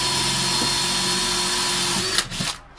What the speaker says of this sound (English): So you're just drilling a pilot hole